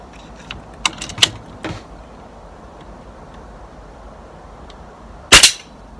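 A pellet gun fires a few sharp snapping shots, a cluster early on followed by a louder single crack after a quiet pause, close and dry against a low background hiss.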